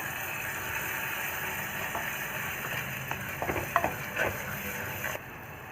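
Ground masala paste frying with onions in a pan for a fish curry, a continuous close sizzle with a few louder spatters and stirring scrapes near the end before it quiets.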